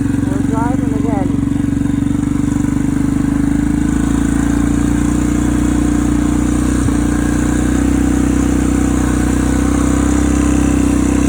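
An ATV engine runs steadily and loud throughout while being ridden, a constant low drone with slight pitch shifts; a brief voice is heard near the start.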